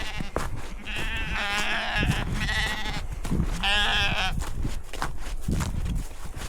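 Sheep bleat loudly and close by on a smallholding as hay is spread at morning feeding, with two main bursts of overlapping calls and a few shorter bleats between them.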